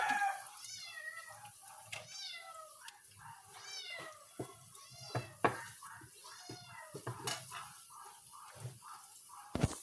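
A cat meows repeatedly, several drawn-out rising and falling cries close by, with small clicks and knocks in between; no talking.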